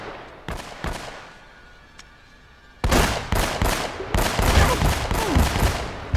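Gunfire in the video game Uncharted: Drake's Fortune, starting with a few scattered single shots and then breaking into loud, dense rapid bursts of automatic fire, close and continuous, with no talking.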